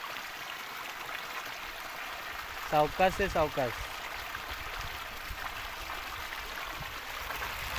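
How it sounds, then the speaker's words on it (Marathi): A forest stream flowing toward a small waterfall makes a continuous, broad rushing wash of water that fills the whole stretch, with a brief spoken phrase partway through. "हा जो ओढा तुम्हाला दिसतोय,"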